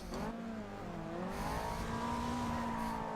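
Mazda MX5 in Forza Horizon 2 driving at speed, its engine note rising and falling through revs and gear changes in a continuous, close, loud drone with no talk.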